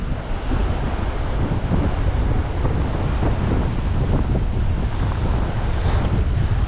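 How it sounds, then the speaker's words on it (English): Strong wind blows at night by the water during a blue crab netting trip at Captree State Park, a loud, steady roar buffeting the microphone with water washing underneath. "This wind is getting worse right now."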